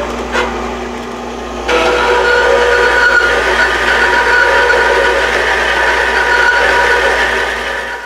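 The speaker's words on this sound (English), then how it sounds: "Probably one bandsaw cut is plenty" A bandsaw cutting a workpiece in a woodshop: after a brief quieter start the blade bites in and a steady, loud whirring cut runs continuously to the end.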